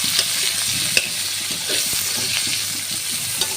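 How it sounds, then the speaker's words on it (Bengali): Cumin seeds and chopped onion frying in hot oil, a dense close sizzle broken by repeated scraping stirs and small clicks of the utensil against the pan. "তেলটা দিয়ে দিয়েছি, এখন একটু জিরা দিয়ে দিব। জিরা, এখানে পেঁয়াজ কুচি দিয়ে দিব।"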